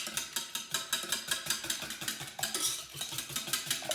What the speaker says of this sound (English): now we're going to whisk